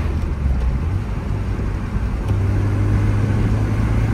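Mini Cooper without turbo drones steadily from inside the cabin after a downshift while driving on the road, a loud, even low engine hum that deepens slightly midway, with no talking.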